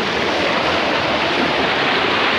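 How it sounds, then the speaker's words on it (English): Small waterfall in the Subway slot canyon of Zion National Park, a loud, close, continuous rushing hiss of falling water that fills the whole stretch with no voices. "I don't know if you can hear me, but it's a little waterfall."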